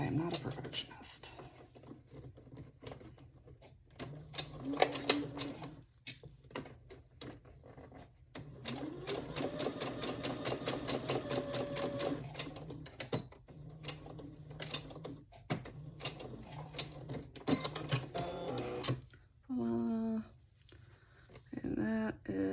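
Sewing machine stitching the end of a fabric hair elastic, a steady mechanical whir in bursts that stop and restart, close and moderately loud, with faint breathy sounds in between.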